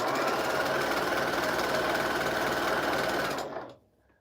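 A sewing machine stitches quilt fabric for a jelly roll pattern with a steady, fast, close mechanical whir that runs continuously and then stops abruptly near the end.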